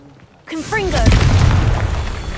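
A voice speaks a brief word, then the Confringo spell in the Hogwarts Legacy video game bursts into a loud, low explosion whose rumble carries on to the end.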